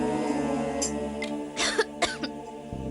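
A woman coughs several times in short, harsh bursts over a sustained background music bed.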